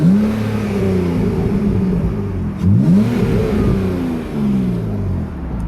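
A BMW E46 car's engine accelerating and revving while driving, with rising and falling harmonic engine tones sweeping through several gear changes, loud and steady throughout with no talking.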